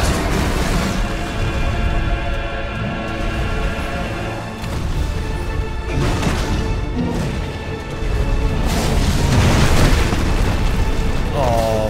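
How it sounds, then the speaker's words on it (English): Ifrit's Brimstone explosion in Final Fantasy XVI, heavy booming blasts and rumbling bursts in repeated waves over loud battle noise, with a voice talking at times. "Suffering an attack, however, will automatically trigger the explosion."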